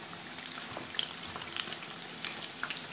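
Jackfruit pieces fry in hot oil, giving a steady, close crackling sizzle with scattered small pops throughout.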